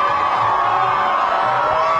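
A huge crowd at the Kansas Jayhawks 2022 national championship parade cheers and whoops loudly, a dense, sustained roar of voices and high shouts.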